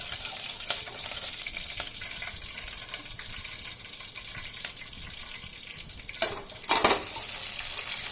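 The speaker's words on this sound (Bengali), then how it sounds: "তেলটা গরম করে নিয়ে কিছু পরিমাণ সরিষা ও রসুন গরম করে নিয়ে আমগুলো দিতে হবে।" Raw mango pieces frying in hot mustard oil with mustard seeds and garlic, a steady close hiss of sizzling throughout with a couple of brief louder stirring scrapes near the end.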